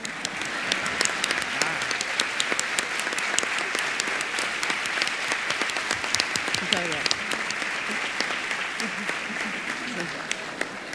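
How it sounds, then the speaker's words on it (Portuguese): A conference audience at a vocational training congress gives sustained, dense applause for two actors called back to the stage, an even roar of many hands clapping for about eleven seconds with voices faintly underneath. "pedia para que voltassem ao palco para lhe darmos mais uma salva de palmas"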